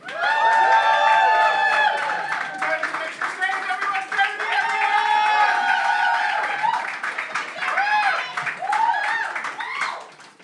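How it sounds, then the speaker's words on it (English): Audience at an open mic show clapping and cheering for a first-time performer, with loud, steady applause and whoops running through the clip under overlapping voices before fading at the end. "please can we give a massive round of applause to a first timer here, to Jodie!"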